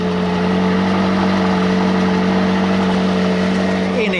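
McLaren 570GT with a 3.8-litre twin-turbo V8 starting and idling, a loud, steady deep throb held close by, with a rising note near the end.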